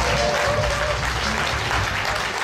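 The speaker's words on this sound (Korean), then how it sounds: "뜨거운 환호와 박수 부탁드리겠습니다" Attendees at a university CEO program's year-end seminar at Dongguk University applaud warmly for their professor, a continuous, even roar of clapping with a low murmur and hum underneath.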